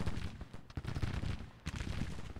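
Civil War artillery firing in Grand Tactician: The Civil War, a quiet, continuous rumble of distant cannon and musket fire with repeated soft booms rolling over one another.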